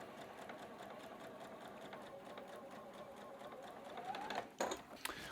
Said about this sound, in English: I'm going to go over to the sewing machine with that 1/4 inch seam allowance.